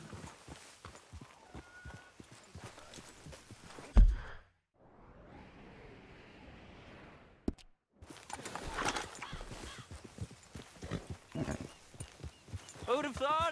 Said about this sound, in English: Grab your horse and let's go.